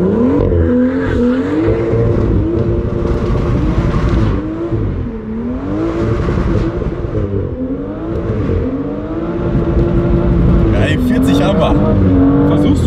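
A car accelerates hard from 0 to 60 on snow during a winter test, its engine loud and revving up through several rising gear pulls close by, with people talking over it.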